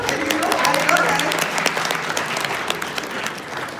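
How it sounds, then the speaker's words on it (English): A leadership talk audience claps in steady applause that holds for a few seconds and fades slightly, with faint voices mixed underneath. "you can clap if you want"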